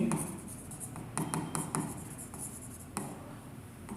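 A pen writes on paper for accounting journal entries, giving near, quiet, scratchy strokes in short irregular bursts with small pauses between them.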